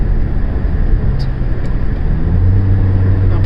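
A Volkswagen Polo GT TSI automatic hums with a steady, loud low engine drone and road rumble heard from inside the car, the pitch rising slightly toward the end as it picks up speed.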